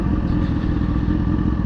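A freshly built 2005 Kawasaki ZX-10R motorcycle engine runs loud and close, a dense, steady throbbing rumble with no break or change in pitch.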